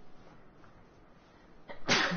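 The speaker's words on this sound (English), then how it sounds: "Oh god, I'm gonna sneeze." A single sharp sneeze bursts out close to the microphone near the end, preceded by a faint sharp intake of breath over quiet background hiss.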